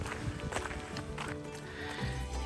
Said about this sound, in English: along the way we have some friendly horses